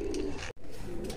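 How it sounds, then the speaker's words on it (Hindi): Pigeons of a Madrasi breed kept by a fancier give soft, low cooing, close by and steady for about a second, with a brief gap in the middle. "तो भाई ये सारे कबूतर आपको आज शौक करा रहे हैं मिस्टर संजय जी का जो कि सालापुर से हैं"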